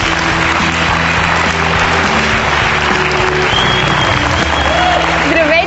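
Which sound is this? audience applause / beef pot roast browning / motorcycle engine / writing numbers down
audience applause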